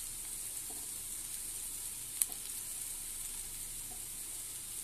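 Green chillies sizzle in a hot pan while cooking paneer, a steady, fairly faint hiss with one sharp little click partway through and no voices.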